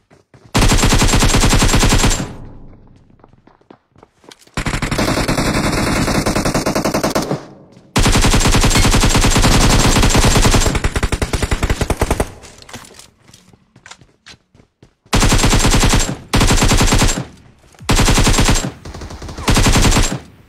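Rapid bursts of loud automatic gunfire in the video game PUBG Lite repeat in long sustained volleys, separated by brief pauses and followed by shorter staccato bursts.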